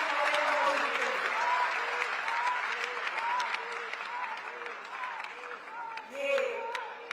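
Convocation ceremony crowd at Netaji Subhas University of Technology gives steady, fairly distant applause for the Prime Minister, while a voice carries on speaking over the clapping throughout.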